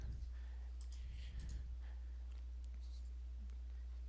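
Light clicking on a computer keyboard, a few soft scattered keystrokes in a quiet room, faint and separated by pauses.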